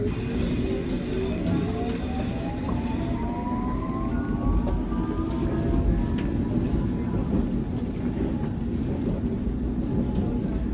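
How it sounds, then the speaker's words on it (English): A London Underground Circle Line train bound for Hammersmith runs through the tunnel, a loud steady rumble with rising and falling whining tones and faint wheel squeal, heard from inside the car. "Circle Line train to Hammersmith."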